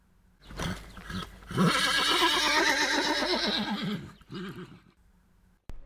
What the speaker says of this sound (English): A calash with 4 horses has drawn up beside us.